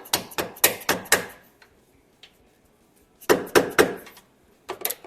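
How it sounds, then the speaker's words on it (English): Sharp bursts of hammer blows on a screwdriver, knocking plastic clips out of a Mustang: two quick runs of four or five close, ringing taps separated by a quiet pause, then a shorter flurry at the end. "So I did the other side pretty easily, just with a screwdriver and a hammer."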